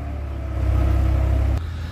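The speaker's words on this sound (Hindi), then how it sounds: "अगला ट्रैक्टर भी आने वाला भाई महेंद्रा का" A Mahindra 575 tractor engine labours in a deep, loud, steady rumble as it climbs a steep 15-foot slope, swelling midway and then dropping abruptly near the end.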